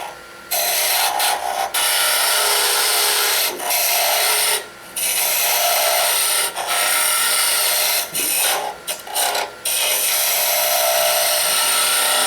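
A woodturning gouge cuts a wooden globe Christmas ornament spinning on a lathe, making a close, steady broadband rasp that runs almost continuously, broken by a few brief pauses as the tool lifts off the wood.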